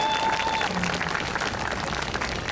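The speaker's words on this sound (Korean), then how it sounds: "다시 한번 큰 박수 부탁드립니다" An audience at the Seoul Arirang Festival claps for a folk singer's Gangwon-do Arirang performance, dense, sustained applause from a crowd with some voices mixed in.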